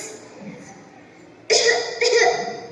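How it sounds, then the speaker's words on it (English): Two harsh coughs close to the microphone, about half a second apart, following a few quiet seconds. "why are you coughing so much?"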